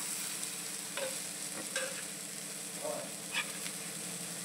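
Quiet stirring of eggplant bharit with raw onion and coriander in a pan, soft scraping strokes with a few light knocks, over a faint low hum and background hiss.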